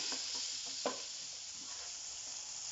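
Ridge gourd frying with masala in a pan sizzles steadily while being stirred, with a few soft scraping strokes near the start over a continuous low hiss.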